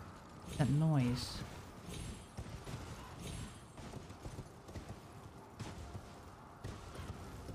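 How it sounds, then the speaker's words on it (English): A horse in the Elden Ring video game gallops with quick, rhythmic hoof clops after a short whinny-like call, while someone talks over the action. "Moving so fast, horse."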